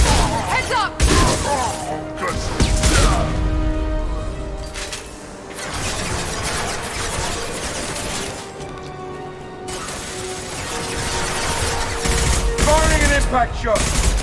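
Gunfire and impact shots in the sci-fi shooter Mass Effect 2, dense bursts of shooting mixed with game music, explosions and shouted voices, loud and cluttered throughout.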